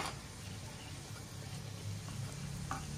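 Ola javla vadi, patties made with fresh small shrimp, fry in a pan over a low gas flame, giving a soft, steady sizzle that continues quietly throughout.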